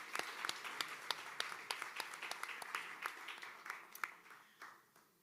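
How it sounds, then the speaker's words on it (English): Small audience at a House of SpeakEasy evening show gives a round of applause, fairly quiet and thinning, with distinct individual claps standing out in an irregular patter that fades toward the end. "let's all give us a round of applause for not being afraid"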